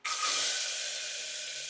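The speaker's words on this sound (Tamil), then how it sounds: "குக்கரில் கொஞ்சமாக நெய்யை விட்டு கட் பண்ணி வச்ச தேங்காய்." Finely chopped mature coconut hits a little ghee in a pressure cooker, starting with an abrupt hiss that settles into a soft, steady sizzle, fairly quiet and close.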